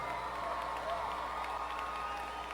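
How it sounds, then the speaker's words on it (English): A crowd at the XKO 47 combat-sports event applauds and cheers for both fighters after the Kotinek vs Oldenkamp bout. It is a dense, steady wall of clapping and cheering that holds evenly from start to finish. "a round of applause for both of these athletes"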